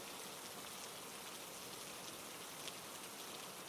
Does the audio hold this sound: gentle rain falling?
yes